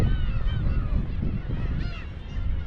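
A large colony of seabirds on Kabushima island in Hachinohe, many harsh honking and mewing calls overlapping densely, loud and close with a steady crowded din.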